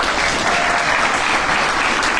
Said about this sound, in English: I would ask you all to hold your applause for Luke for a while